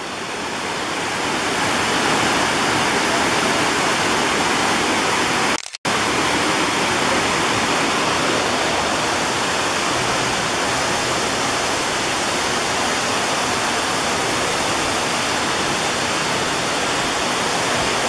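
River rapids rush in a park, a loud, dense, continuous roar of churning water heard up close. The sound breaks off for a split second partway through, then resumes unchanged.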